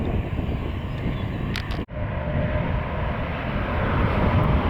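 JetBlue flight 581, an inbound airliner at Southwest Florida International Airport (RSW), roars past as a steady broadband engine rumble with wind noise. The rumble holds fairly constant, briefly dips, then swells slightly as it passes.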